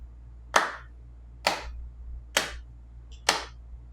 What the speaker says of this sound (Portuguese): se eu bater aqui palmas e tentar acompanhar essas palmas